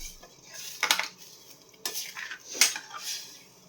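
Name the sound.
stirring liquid in a cooking pot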